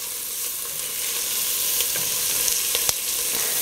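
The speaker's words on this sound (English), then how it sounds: "we're just going to cook this for a few minutes. They're browning up a little bit from the butter in the dish." Chopped onions sizzle steadily in butter in a baking dish while browning, a bright, close, continuous frying hiss with a few small pops and no talking.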